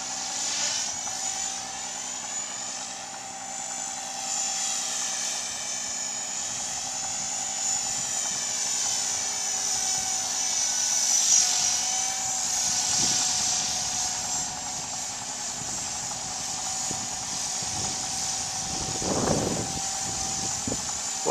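A Blade 300X remote-control helicopter flies and holds inverted, its high rotor whine sustained and fairly close throughout, pitch wavering as it maneuvers, with a brief louder surge near the end and no talk.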